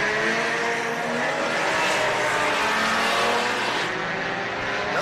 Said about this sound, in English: All these drivers beginning their first flyer lap now.